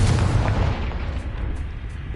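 A deep booming blast from a Bombarda or Confringo spell, a heavy low rumble at the start that rolls and fades away over a couple of seconds, with no voices over it.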